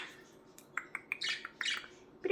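A pet budgie gives a quick run of soft chirps and squawky tweets, close and fairly quiet, with short gaps between calls and no talking.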